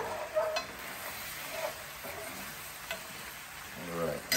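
Sesame chicken sauce simmering in a pan, giving a soft, steady sizzle and faint bubbling with a few light clicks of a utensil stirring.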